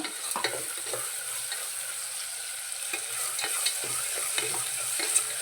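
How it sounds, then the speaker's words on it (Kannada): Onion, curry leaves and green chillies frying in oil for a village-style sour upma, a steady close sizzle with scattered crackles and pops and occasional stirring scrapes, no voices. "ಈರುಳ್ಳಿ ಮೆತ್ತೋ ಮೆತ್ತಗಾಗೋವರೆಗೂ ಇದನ್ನು ಬೇಯಿಸ್ಕೊಳ್ಳೋಣ ಎಣ್ಣೆಯಲ್ಲಿ"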